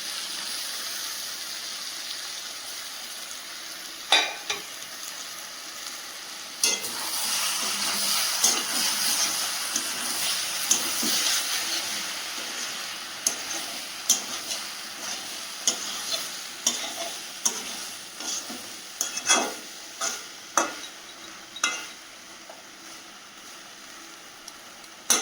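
Masala sizzling and frying in a pan, stirred with sharp scraping clicks that grow more frequent toward the end over a steady hiss, with no talking.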